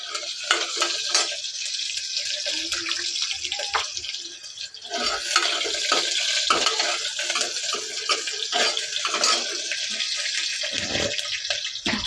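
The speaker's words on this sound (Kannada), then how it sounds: "ಇವಾಗ ಈರುಳ್ಳಿ ಸ್ವಲ್ಪ ಚೆನ್ನಾಗಿ ಫ್ರೈ ಆಗಬೇಕು" Onion and four whole peeled garlic cloves fry in hot oil, a loud continuous hiss and sizzle broken by occasional stirring clatter.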